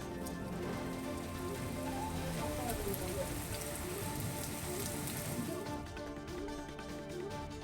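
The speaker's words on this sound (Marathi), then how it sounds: "नाशिक शहर आणि परिसरात पुन्हा मुसळधार पाऊस कोसळलाय।" Heavy rain pours down over the city of Nashik, a dense continuous roar of drops hitting surfaces, steady and loud throughout with no pauses.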